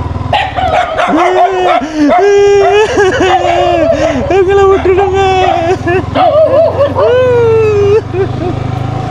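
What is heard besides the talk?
dog barking at visitors near field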